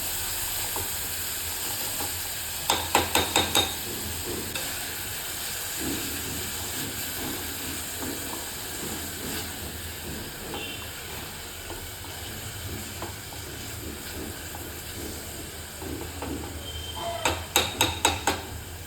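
Tomatoes cook in a pan for pav bhaji with a steady sizzling hiss throughout, broken by a few brief clusters of sharp metallic taps near the start and end; no talking.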